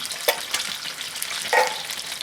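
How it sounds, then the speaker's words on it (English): Okra stew with tomato and broth stirred in a pot, a soft steady sizzle with a few sharp scrapes of the spoon, close and quiet, no voices. "Then I'll stir this, lower the heat, let it simmer for a while."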